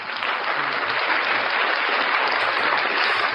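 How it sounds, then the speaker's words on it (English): A canned applause effect played from a soundboard: dense, even clapping at a steady level for a few seconds, with no voices over it. "Let me give this man a round of applause."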